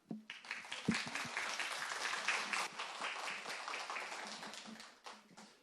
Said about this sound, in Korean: 큰 박수로 시작하도록 하겠습니다.